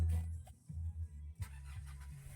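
A 2019 Nissan Navara 2.5V automatic pickup starts with its push-start button, a short crank and low idle rumble that settles into a steady hum, heard close up.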